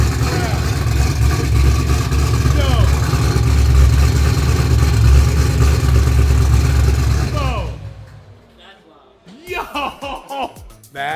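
A drift car's engine fires up and revs hard, a loud steady roar with rising and falling throttle for several seconds, then cutting to a lower idle as excited voices talk over it.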